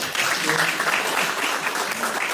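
Audience at a Democratic Party political rally giving a candidate a round of applause, a dense, continuous wash of many hands clapping throughout.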